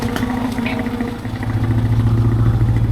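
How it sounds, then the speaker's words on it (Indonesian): A motorcycle engine labours on a village road in Sukabumi while hauling a heavy load of stones, a loud close rumble that rises and strains with some rattling clatter. "Luar biasa powernya motor."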